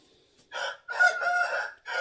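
A big, tall rooster of about eight pounds crows close by, giving three loud, harsh bursts that rise and fall, each broken by a short pause.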